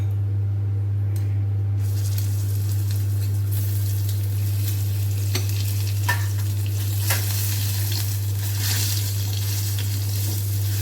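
Curry leaves and chutney sizzle and crackle steadily in hot oil over low heat, with asafoetida already in the pan and occasional stirring clinks; a constant low electrical hum runs underneath.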